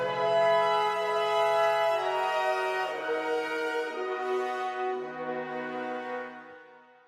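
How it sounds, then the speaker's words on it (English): Slapback echo from the pre-delay of a Vienna Suite Pro convolution reverb on a sustained tonal sound, steady harmonic layers with repeated onsets smearing into a reverberant tail that fades toward the end, no talking. "A pre-delay will produce a slapback sound like this."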